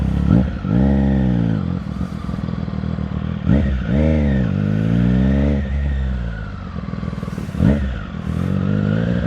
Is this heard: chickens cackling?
no